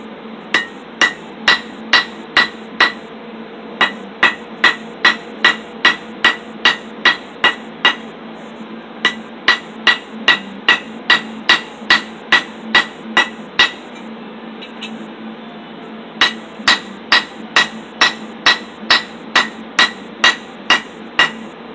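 Sharp, ringing hammer blows on hot metal at a forge strike in a steady rhythm, with a brief pause midway, close and loud with no talking.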